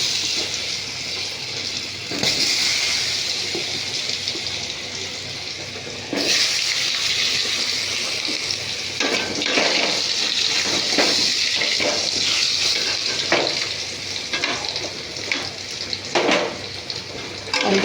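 Potato pieces sizzle in hot oil left from frying eggplant, a steady hiss with bursts of louder crackle as pieces go in, lightly under occasional talk.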